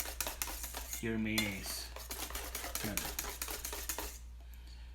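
A whisk beats aioli in a bowl with a fast, steady, rhythmic metallic clatter that runs throughout, briefly under a short spoken phrase.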